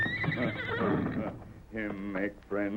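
A horse whinnies in an old 1938 radio western drama, two or three loud, close, wavering neighs that come after a stretch of broadband clatter and noise.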